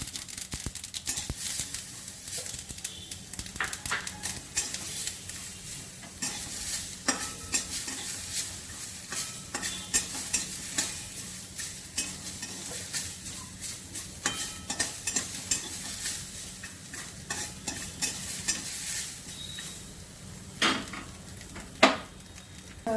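Grated coconut frying in a pan while being stirred, a continuous close sizzle with repeated scraping and clinks of a utensil against the pan, no voices.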